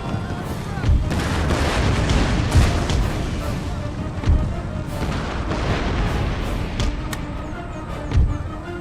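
Artillery firing in the video game Total War: Empire, with a battle playing as Russians against cavalry: a dense, continuous rumble of cannon booms and musket crackle, with periodic heavier thuds standing out above the roar.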